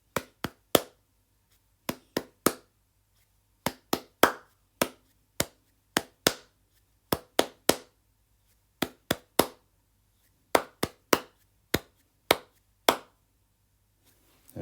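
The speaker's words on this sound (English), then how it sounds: "I'm going to clap this rhythm to you." Hands clap out a musical rhythm, sharp isolated claps in short groups of two and three separated by silence, close and crisp.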